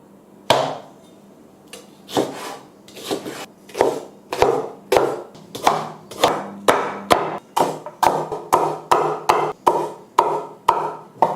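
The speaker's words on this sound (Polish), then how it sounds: "oczyść rabarbar i posiekaj go trochę" Knife chopping rhubarb on a board, sharp knocks that start slow and spaced, then speed up into a steady, quick rhythm, close and alone with no talk.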